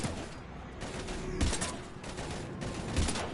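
Rapid bursts of automatic gunfire crackle through a firefight in the video game Mass Effect 3, heavy volleys rising and falling over a few seconds with no voices.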